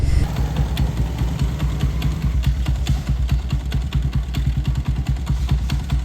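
A motorcycle engine on self-start runs with a steady, harsh rattling clatter, rapid knocking pulses repeating throughout, close and fairly loud with no talk.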